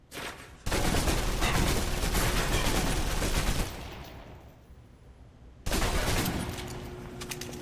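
Rapid submachine gun bursts in the video game Alpha Protocol, loud dense automatic fire that runs for about three seconds, pauses, then resumes briefly, with no talking.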